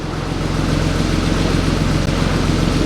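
A salvage auction car sits idling nearby, its engine holding a steady, even low hum with no revving, broken only by a tiny click near the end.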